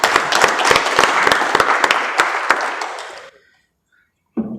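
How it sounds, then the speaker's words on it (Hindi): An audience at a technical talk on assets claps for about three seconds, a dense burst with a few sharp individual claps standing out, then it stops abruptly into silence before a voice resumes. "यदि आप बोरियत नहीं महसूस कर रहे हो तो तालियां बजाओ।"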